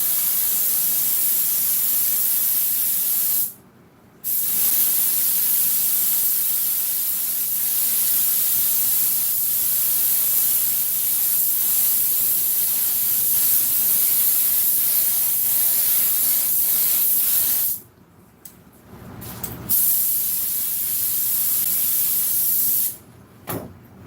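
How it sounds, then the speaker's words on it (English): Continuous loud aerosol spray hissing close by onto 1966 Chevy truck seat foam, cut off by a brief pause, then sputtering in short bursts near the end. "I'm going to spray this side right here, let it dry, turn it around"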